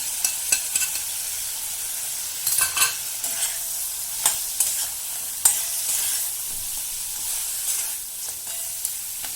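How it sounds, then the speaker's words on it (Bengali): Crabs sizzling in a pan for spicy crab curry, a steady close frying hiss broken by intermittent scraping stirs and clacks of a spatula against the pan. "এবার কাঁকড়াগুলো দিয়ে দিচ্ছি।"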